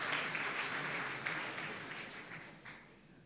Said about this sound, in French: Là, on peut vraiment applaudir les équipes de dev.